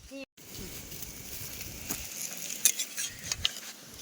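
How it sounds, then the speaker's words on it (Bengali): A paratha fries in a little oil at an outdoor village cookout, giving a quiet, steady sizzle with a few light scrapes and taps of a utensil, close by. "কি সুন্দরভাবে পরোটাটা ফুলছে দেখো আর খুব অল্প তেলে কিন্তু ভাজি"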